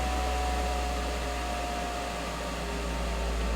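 A spray booth extraction fan runs at reduced speed under its speed controller, giving a steady, loud, broadband airflow roar with a low hum and a faint tonal whine that holds constant and uninterrupted throughout, with no voices.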